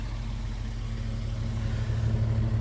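A Toyota Land Cruiser idling smoothly, a steady low engine hum and exhaust rumble, even and unbroken, close by with no talking.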